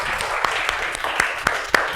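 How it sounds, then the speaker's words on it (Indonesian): A small group of people applauding at a classroom gathering, with scattered, uneven claps standing out over a noisy room. "Tepuk tangan untuk kita semuanya."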